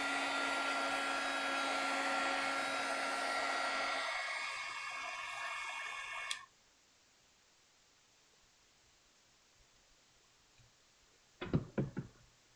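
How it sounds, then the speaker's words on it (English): A heat gun roars steadily at close range while drying scrapbook paper, then cuts off abruptly, leaving near silence before a short clatter of handling. "So don't use your heat gun on your good mat. Use it on this one."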